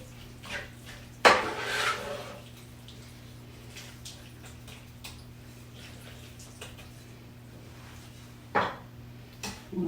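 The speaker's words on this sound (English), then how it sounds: "Okay, so stir it all up" Spoon stirring hamburger taco soup in a pot, with a couple of sharp scraping clinks against the pot over a steady low hum, mostly quiet between the strokes.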